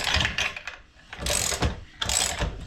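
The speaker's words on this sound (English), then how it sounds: "tool should work if you use a ratchet, preferably a nice long ratchet" A long ratchet on a tool works on the rear suspension of a Porsche 911, giving three bursts of loud, close clicking as the handle is cranked back and forth, with no voices.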